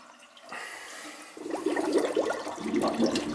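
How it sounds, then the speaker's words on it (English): Water gurgles and swirls down an unvented kitchen sink drain, starting as a soft rush and building into loud, bubbling glugs and churning close up. "See, it's bubbling because you got no vent."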